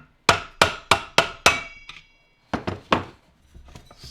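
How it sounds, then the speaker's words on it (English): A hammer strikes metal pump parts on a hot tub Waterway pump during seal and bearing replacement: five quick, sharp, ringing blows in a steady rhythm, a pause, then three more hits and fainter taps, close and loud. "And use a hammer or something, bang behind it."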